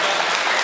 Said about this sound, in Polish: oczywiście dziękuję za oklaski i życzenia